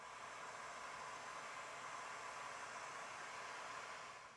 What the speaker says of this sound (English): We'll shrink them down with a heat gun.